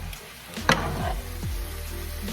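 Loaded potatoes fry in a skillet with a soft steady sizzle while a utensil scrapes and stirs through them in a few quick strokes, quiet and close.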